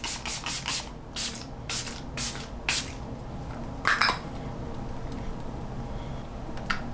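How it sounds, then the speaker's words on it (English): A Milani Fruit Fetish finishing spray mist bottle gives several quick, close hissing pumps in a rapid cluster, then a few more spaced sprays, with faint rubbing in between. "Now we are going to go in with the Milani Fruit Fetish Finishing Spray."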